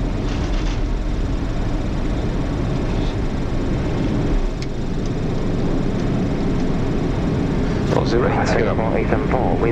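Silkway Boeing 747-8 taking off at Hong Kong, a broad, steady jet engine roar at a distance that holds through the climb, with a brief radio voice near the end.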